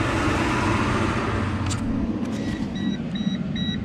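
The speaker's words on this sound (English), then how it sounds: "little loud truck coming by." A loud truck rumbles past on a nearby road, a broad steady roar filling the scene, with faint high beeping tones appearing toward the end.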